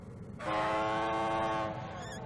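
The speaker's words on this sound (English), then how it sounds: "Theodore blew and blew, trying to make his whistle sound serious and important." A single loud, sustained tugboat whistle blares for about a second and a half, rich and tonal, then cuts off.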